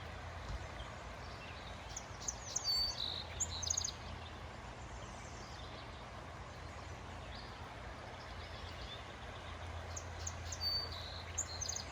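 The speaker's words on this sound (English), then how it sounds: "there's an American redstart, there's a red-eyed vireo, there's a yellow warbler, all singing right here" American redstart, red-eyed vireo and yellow warbler singing on a regenerative farm, faint high chirps and warbled phrases scattered over a steady low hum and outdoor background noise.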